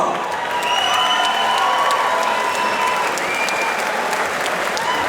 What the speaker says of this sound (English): Round of applause for both fighters this evening.